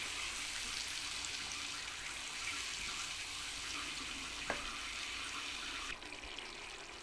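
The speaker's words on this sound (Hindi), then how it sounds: "कम से कम हम इसको 5 से 7 मिनट तक भूनते हैं" Masala with yogurt frying in a pot for Lahori daal gosht gives a steady, dense sizzling hiss that runs continuously, with no one talking.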